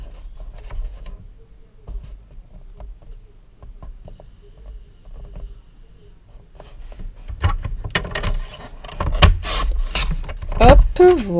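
A blade slicing diagonal cuts through paper, heard as faint scratchy strokes at first that grow into louder, closer rasping scrapes near the end.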